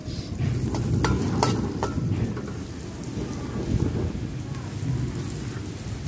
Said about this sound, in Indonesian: Ini harinya mau hujan, ada guntur petirnya dan plus anginnya kayaknya.